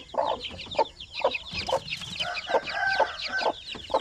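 Month-old native Zampen chicken chicks peep and cheep close by, a dense, rapid overlapping chorus of high chirps with soft clucking mixed in, continuous throughout.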